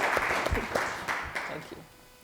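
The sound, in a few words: applause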